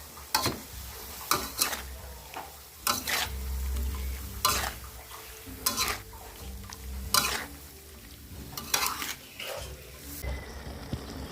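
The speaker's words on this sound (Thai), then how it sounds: "คนให้ทั่วถึงคนให้เข้ากันนะครับ" Pork, peppers and cabbage are stir-fried in a pan, sizzling under repeated spatula scrapes and clacks against the metal at an irregular rhythm, close and moderately loud, with no talking.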